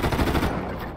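Rapid machine gun bursts fire in a GTA V zombie mode, loud and close, with the rattling shots trailing off by the end of the second.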